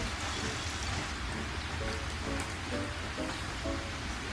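Steady rain falls in an animated cartoon, a dense continuous hiss with faint tonal blips of background music or effects riding over it.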